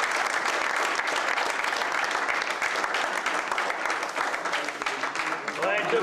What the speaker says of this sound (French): on peut applaudir très fort Anthony Verwacht